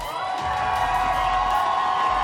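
Large arena crowd at a VCT EMEA 2026 Stage 1 Finals esports match between Vitality and Team Heretics, roaring and whooping continuously in a dense, sustained wash of cheers.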